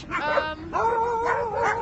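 Sled dogs at a stage race in snowy Wyoming yelp and whine eagerly in a few short, close outbursts, high-pitched and excited, with no human speech.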